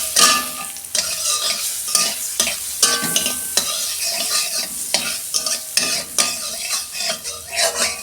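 Butter sizzles in a hot wok before chicken goes in to fry, a close crackling hiss broken by repeated scraping and stirring clatter of a utensil against the pan, with no voices.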